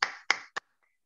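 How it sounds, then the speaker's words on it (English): Three sharp, separate claps ring out in a quiet presentation-skills training room, each a crisp hand strike with a short fading tail, then silence. "Okay, everybody clap."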